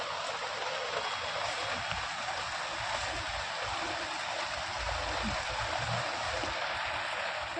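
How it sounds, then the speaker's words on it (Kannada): Rainwater pours steadily down from a house terrace after a heavy downpour, a constant broadband splashing rush with low rumbling, close and continuous for the whole stretch, no voices. "ನೀರು ಈ ಥರ ಬೀಳ್ತಾ ಇದೆ ಮೇಲೆಯಿಂದ ಅಂದರೆ ಟೆರೆಸ್ ಮೇಲೆ ಟೆರೆಸ್ ಏನಿದೆ ಅಲ್ಲಿಂದ ಬರುತ್ತೆ ಈ ನೀರು"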